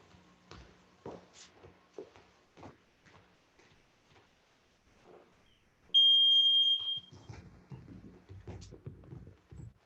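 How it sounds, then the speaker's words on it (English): A single loud, steady electronic beep from a workout timer sounds for about a second at the start of a youth Brazilian jiu-jitsu warm-up, between stretches of an instructor talking and movement noise. "So I'm gonna start our timer"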